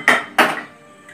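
A pressure cooker set down on a stove as part of making a semolina rava cake, giving two sharp metallic clunks about a third of a second apart, followed by a faint ringing tail.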